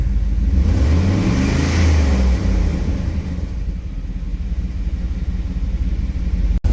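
A wrecked 1999 Chevrolet Tahoe gasoline engine runs close by with a steady low rumble that swells into a brief rev early on, then settles to an even idle drone until it cuts off abruptly at the end.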